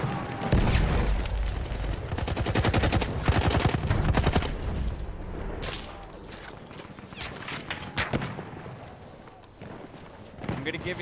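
Rapid video game gunfire rattles in sustained automatic bursts, loud and close, thinning into scattered single shots, while players shout and talk over it.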